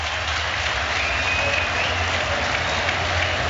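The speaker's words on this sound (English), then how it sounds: "listen to this cheer for Phil Foden" Stadium crowd at a Manchester City versus West Ham United football match cheering for Phil Foden as he steps up, a loud, dense and steady roar of many voices with applause filling the whole stretch.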